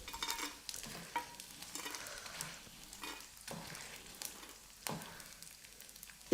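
Edible gum (gond) roasting in ghee in a pan, with a quiet continuous sizzle and repeated stirring scrapes of a spoon at an unhurried, irregular rhythm.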